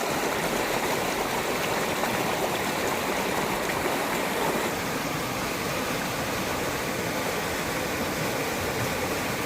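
Water from Walheri waterfall rushes along a hillside stream in a constant, close, full roar, unbroken and with no voices over it.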